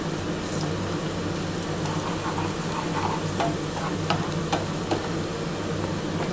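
Onions sizzle steadily in a pan for a Punjabi-style paneer tikka masala, with a few sharp stirring clicks and scrapes breaking through the close, even frying hiss.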